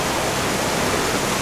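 A waterfall roars steadily at a gold panning spot, a dense, unbroken rush of falling water close by that fills the whole moment with no voices.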